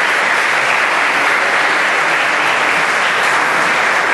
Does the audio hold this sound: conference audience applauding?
yes